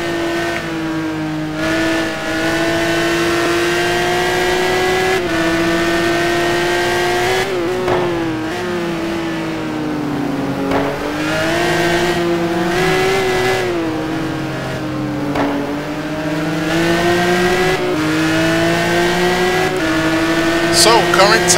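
Lamborghini GT1 race car at Sebring in a racing game, its engine loud and continuous, revving up through the gears with pitch climbing and dropping at each shift and braking for corners, under commentary.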